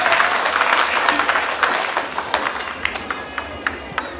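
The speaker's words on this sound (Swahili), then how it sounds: "Basi tumshangilie Mungu kwa makofi kwa hilo." A church congregation at a parish celebration breaks into sustained, dense applause, many hands clapping at once, with some louder individual claps standing out as it tapers.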